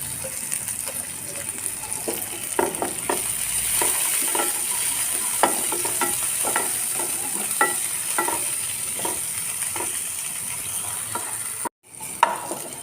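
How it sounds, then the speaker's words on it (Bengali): Chopped onion, two dried red chillies and cardamom sizzle steadily in hot oil, a close, continuous frying hiss broken by regular scraping stirs, cutting off briefly near the end. "এই তেলটা হয়ে গেছে, পেঁয়াজ কুচনো দিলাম। দুটো শুকনো লঙ্কা দিলাম।"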